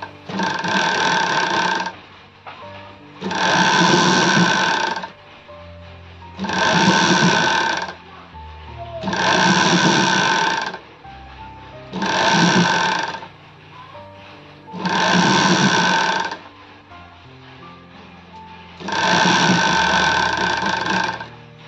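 An electric sewing machine stitching sleeves onto a readymade nightie runs in seven loud, close bursts of rapid whirring and needle chatter, each about two seconds long, separated by brief pauses, with no one talking.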